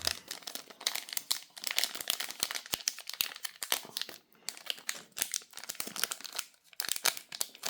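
Crinkly plastic wrapper of a Topps Paris Saint-Germain Champions League card pack being worked at and crumpled up close, a continuous run of sharp crackles and rustles without talking.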